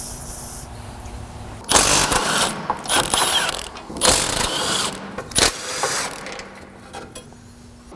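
A ratchet works loose 21mm fasteners on a GMT400 Chevy truck engine, giving bursts of clicking and clanking with metallic rattles in short irregular spells between quieter pauses.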